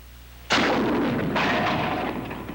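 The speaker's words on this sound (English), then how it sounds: "you can blast a tank with one of these rockets, and here's the proof" A bazooka rocket fired at a heavy steel plate target gives a sudden loud blast, then a second burst a moment later, both trailing off into a long rumbling decay.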